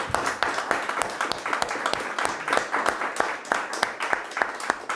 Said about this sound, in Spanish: Bueno, entonces le doy yo el aplauso al Señor.